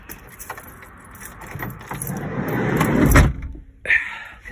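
Rustling and rattling build up to a solid slam of a 2019 Volkswagen T6 van's rear door, followed by a short mechanical whir, close by and without speech.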